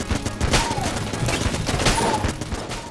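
Rapid bursts of cartoonish gunfire and grenade blasts from the video game Enter the Gungeon on Nintendo Switch, a dense, continuous barrage of pops and thumps with small chiming effects mixed in.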